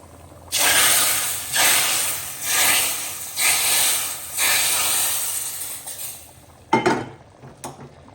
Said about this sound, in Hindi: यहाँ पे तड़का डाल दिया है